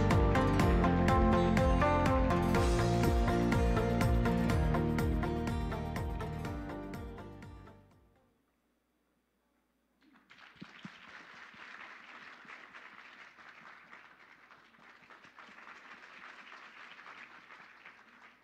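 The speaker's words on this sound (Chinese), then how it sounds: "请大家给予最热情的掌声" An audience at the 31st Taiwan Excellence Awards ceremony applauds steadily to welcome a speaker on stage, rising after music fades out and holding at a moderate, even level.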